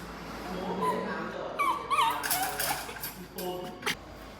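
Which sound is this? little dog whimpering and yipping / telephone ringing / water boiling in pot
little dog whimpering and yipping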